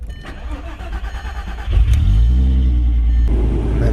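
A Mk4 Volkswagen Jetta GLI engine cranks briefly, then catches and settles into a loud, steady idle close by, with no talking over it.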